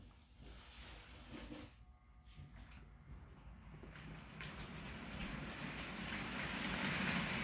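A model railway class 47 locomotive running on a home layout gives a faint, low rolling rumble. The sound grows slowly louder and brighter as the train comes round the track.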